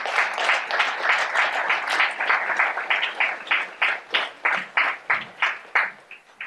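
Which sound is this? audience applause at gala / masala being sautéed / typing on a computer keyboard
audience applause at gala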